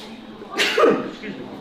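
A single sharp sneeze bursts out close by as a quick breathy rush with a voiced catch, followed by a short faint sound.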